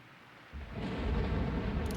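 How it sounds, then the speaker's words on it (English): A low rumble of thunder swells in about halfway through and rolls on steadily, loud and broad, heard within a song. "There's thunder."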